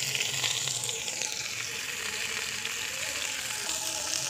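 Cumin and onion fry in hot oil in a wok, giving a loud, continuous, even sizzle close by with no talking.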